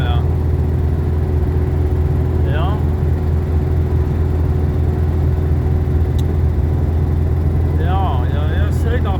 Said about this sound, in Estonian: Sõidab auto nii, et vurinal ja